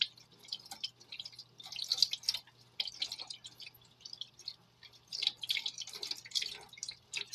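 Water drips and trickles from blue Rit-dyed fabric that has been rinsed several times, falling in irregular splashy clusters close up with quiet pauses between them.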